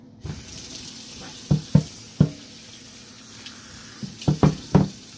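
Tap water runs steadily into a sink while a Ninja blender is washed after making fufu or pounded yam, with several sharp knocks and clatters of the jar and parts over the flow.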